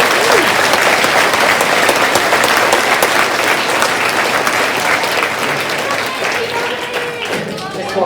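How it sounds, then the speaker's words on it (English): A school audience applauds 5th grade teachers at a winter holiday program, with dense, loud, sustained clapping from many hands that tapers slightly toward the end. "Can we give our 5th grader teachers our big round of applause?"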